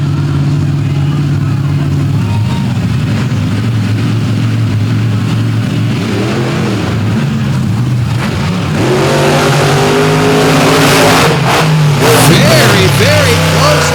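Two monster trucks race side by side at a night event in Benson, North Carolina, their engines droning loudly and then revving harder into a roaring acceleration in the second half, with an announcer's voice under the noise.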